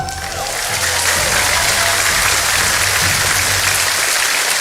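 Loud, dense applause from a large crowd at a party leadership speech event fills the whole stretch, steady and sustained after a brief quieter start.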